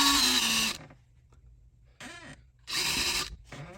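Screws are driven in with a power driver while a Signstek touch screen door lock is installed: two short whirring bursts separated by quiet gaps, with a faint squeaky sweep in between.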